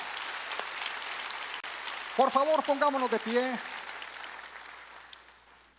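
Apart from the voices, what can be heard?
congregation applause for the King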